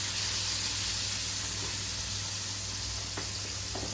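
A pork chop sizzles in a frying pan for a keto meal, a steady broadband hiss with faint crackles, fairly close and continuous, with a low hum underneath and no talking.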